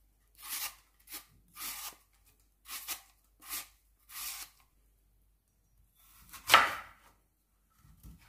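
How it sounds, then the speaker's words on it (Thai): A knife chops apples repeatedly on a board in a loose rhythm of about six strokes, then pauses before one louder scraping cut near the end. "ก่อนอื่นเลยเราก็จะมาปอกแอปเปิ้ลค่ะ 3 ลูกเราจะหั่นเป็นชิ้นเล็กๆนะคะ"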